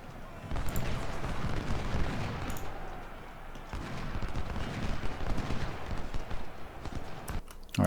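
Troops firing massed volleys in the Ultimate General Civil War strategy game at Cold Harbor, a dense, continuous crackle of musketry with sharper bursts near the start and middle and a sudden loud crack at the end.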